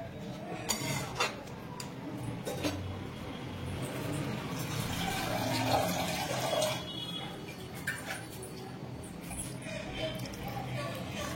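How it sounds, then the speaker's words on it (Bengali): Water is poured into a pot of sambar dal with vegetables, giving a soft splashing fill mixed with clinks of utensils against the pot while someone talks over it. "এখানে আমি আরেকটু জল দিয়ে দেবো"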